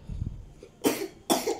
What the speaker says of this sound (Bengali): কাশছিস কেন রে এত?